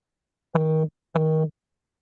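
A mobile phone sounds two identical electronic tones, each about a third of a second long and separated by a short gap, loud and clear against silence.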